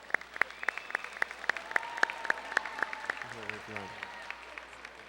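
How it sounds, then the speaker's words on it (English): Scattered hand claps from a school choir spring concert audience, a few dozen sharp claps at a steady beat, with a voice talking over them partway through. "I got to applaud him, sorry."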